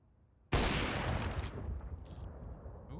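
A sniper rifle shot fires in Counter-Strike on Mirage, one sudden loud crack out of near silence, followed by a sustained noisy echo and rumble that slowly fades.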